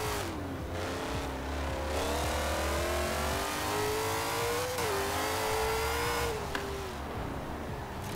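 Supercharged 2005 Ford GT in Forza Horizon 4, engine revving steadily with a whining, rising pitch that dips briefly and climbs again, continuous and moderately loud with no talk.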